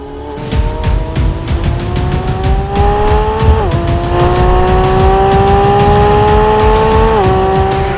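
A Lamborghini Revuelto supercar engine roars loudly and steadily, its pitch climbing through the gears with two distinct upshifts, close and powerful.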